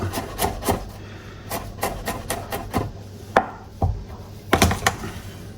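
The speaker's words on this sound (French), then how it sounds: "on l'écrase et on va le hacher fin, comme ceci." A knife chops crushed garlic finely on a board: quick bursts of sharp, close taps that speed up, pause and resume, with no talking.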